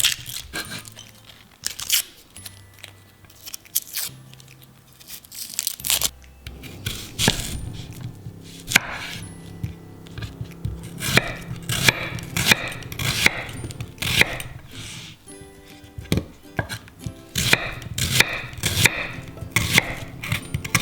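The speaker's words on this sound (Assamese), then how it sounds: "দুটা মিডিয়াম সাইজৰ পিয়াজ লৈছোঁ আৰু এইকিটা মই ৰাফলি কাটি ল'ম" Two medium onions being roughly chopped with a knife on a board, a long series of close, uneven thuds and taps in irregular bursts, with no talking.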